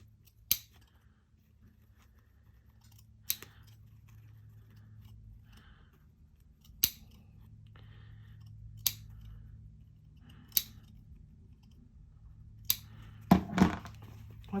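Scissors snip a fabric seam allowance close to the stitching line, giving six or seven sharp, separate clips spaced a few seconds apart over a quiet low hum, with a quick double snip near the end.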